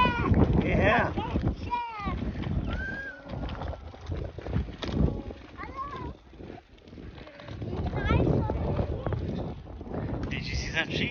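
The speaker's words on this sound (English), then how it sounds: "Did you see some sheep?" Sheep bleat in short wavering calls at the Sheep Shearing Festival at Highland Springs Ranch and Inn in Cherry Valley, California, mixed with wind buffeting the microphone and people talking nearby.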